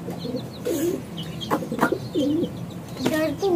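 A Lohari Sahrazi pigeon coos nearby in several soft, throaty rolling phrases, with some faint chirps in the background.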